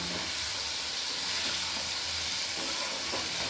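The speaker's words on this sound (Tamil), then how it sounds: "இந்த எல்லாத்தையுமே சேர்த்து நல்லா வதக்கிக்கிடலாம்" Vegetables for a turkey berry tamarind curry are sautéed in a pan, with a steady broad sizzle and soft stirring scrapes, close and continuous.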